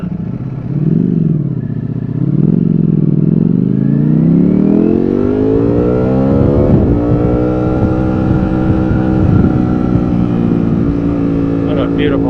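A 2022 Ducati Streetfighter V4S engine idles loud and close, then revs climb smoothly as the clutch is feathered, settling into a high, steady drone on a New York City ride, with a voice talking over parts of it.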